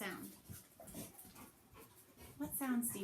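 Dogs growl and grumble at each other while playing, low rough snarls and whimpers mixed with panting, fairly close, while a person talks over them.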